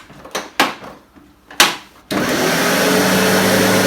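A few sharp knocks and clunks come first, then a Sebo X4 upright vacuum cleaner starts on carpet and holds a loud, steady whirring roar to the end.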